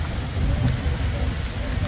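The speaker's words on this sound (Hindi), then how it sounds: "देखिए दोस्तों बाहर कितना भयानक बारिश होने लगा" Heavy rain with hailstones pounds down outside during a strong windy storm on a mountain homestead, a dense steady roar with a low rumbling undertone and no gaps.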